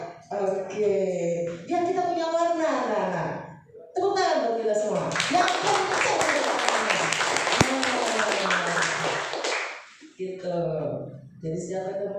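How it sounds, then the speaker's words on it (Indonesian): Schoolchildren clap loudly together, a dense burst of hand claps in the middle after a voice and before talk resumes, with scattered children's voices mixed into the clapping. "Tepuk tangan buat kita semua. Yang kencang."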